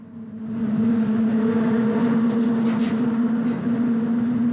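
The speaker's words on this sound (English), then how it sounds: "You could hear the cars going across the bridge there." Cars cross a bridge, making a sustained low hum with a strong steady tone that rises in over the first half second and holds loud and even, with faint higher whooshes of passing traffic.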